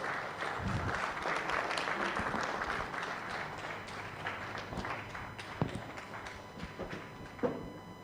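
Audience applause at a real estate awards event greets a speaker coming on stage, a steady wash of clapping with a few sharper claps and taps as it thins out.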